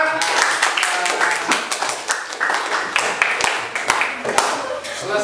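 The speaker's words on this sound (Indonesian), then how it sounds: "Baik, tepuk tangan kepada semua." Students in a classroom clap together after a lesson, a ragged burst of many hands with sharp individual claps standing out, close and fairly loud, with some talking mixed in.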